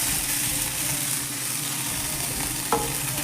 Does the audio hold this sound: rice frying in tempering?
yes